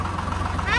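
The engine of a 735 tractor runs in a brief burst, a steady low throbbing idle with a slight rise in pitch near the end, close and fairly loud.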